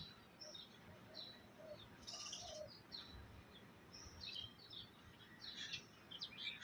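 Several birds chirp and call near a mango tree in the morning, with doves nesting among the branches; short scattered tweets come in bursts over a steady low background hum.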